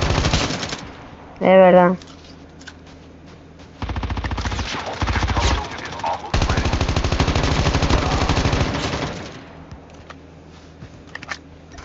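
Bursts of rapid automatic gunfire from a battle royale video game, sounding in several separate volleys with brief single shots between them, loud and close, with players talking briefly over the action.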